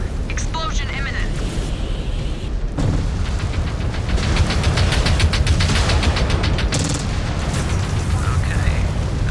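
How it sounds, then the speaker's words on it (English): A MechWarrior reactor explosion erupts as a loud, sustained roaring boom with crackling bursts, dense and close, filling the whole stretch with rumbling blast noise. "Exposed reactor. Explosion imminent."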